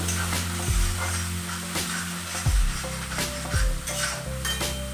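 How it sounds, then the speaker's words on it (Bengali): A spice paste with tomatoes fries in a pan for a vegetarian potato jhal, its steady sizzle broken by a spoon repeatedly scraping and knocking against the metal in a loose rhythm, close and fairly loud. "দিয়ে আমরা নাড়াচাড়া করতে থাকবো মশলাটা সুন্দর করে ভেজে নেবো"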